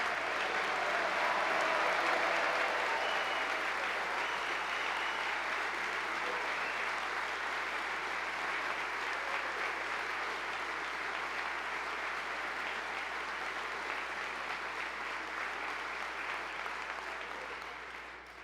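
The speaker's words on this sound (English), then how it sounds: "and I'll ask for your applause" Long, sustained applause from a large chamber audience at the Michigan State of the State address, honoring two sniper competition winners, holding a dense steady roar for about eighteen seconds before fading at the end.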